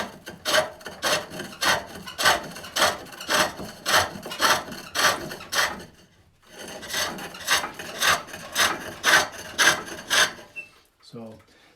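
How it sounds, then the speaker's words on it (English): A hook tool cuts wood on a foot-powered pole lathe while turning a Swedish-style locking lidded box, giving a steady rhythm of rasping, scraping strokes, about two per second, with a short pause midway. "So this hook has no taper before it's scrolled, so I can get a really nice finish cut if I run it almost vertical on that little ledge."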